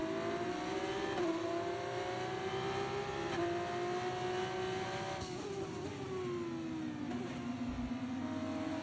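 Formula race car engine in an F1 video game, a steady high-pitched drone during a pit stop that dips and rises with a few gear shifts, continuous and close, with no talk.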